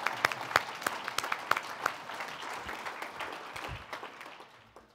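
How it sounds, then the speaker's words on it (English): A conference audience applauding, a burst of many hands clapping that starts with sharp distinct claps and then thins and fades away over a few seconds. "that deserves a clap."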